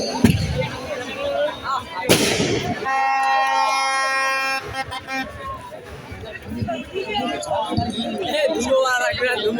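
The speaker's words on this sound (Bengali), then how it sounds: "একের পর এক আতশবাজি ছড়াছড়ি" Fireworks at an evening music program of a badminton tournament, a sharp loud burst followed by sustained whistling and crackle, with an announcer's voice and crowd chatter around it.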